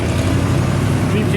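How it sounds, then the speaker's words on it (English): A hot rod truck with Pro Street track wheels rumbles past at a car cruise in Wasaga Beach, a loud, steady low engine roar amid crowd noise and talk. "Hey, there's Mr. Arsenal and his beautiful hot rod truck."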